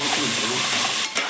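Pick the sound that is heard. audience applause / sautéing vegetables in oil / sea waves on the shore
sautéing vegetables in oil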